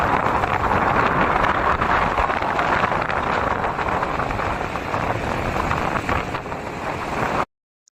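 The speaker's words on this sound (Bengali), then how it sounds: "আমি আপনাদেরকে একটু অরিজিনাল সাউন্ডটা শোনাচ্ছি যে কি পরিমাণে সমুদ্র উত্তাল ছিল সেদিন" Strong wind buffets the microphone beside a rough sea at Kuakata beach, a loud continuous roar of gusts and surf that drops away abruptly near the end.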